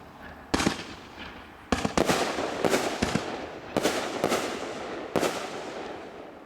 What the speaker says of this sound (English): Now there'll be 5 300 aerial tubes launched in sequence.